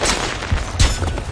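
A firecracker ability goes off in the multiplayer mode Manhunt of the video game Assassin's Creed 3, giving a brief burst of sharp crackling pops, loud and close.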